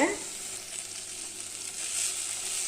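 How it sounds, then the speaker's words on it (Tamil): Vegetables for a winter soup sauté in oil with a loud, close, continuous sizzle that swells slightly toward the end, and there are no voices. "இப்போ இது கொஞ்சம் நேரம் நல்லா வதக்கிக்கலாங்க."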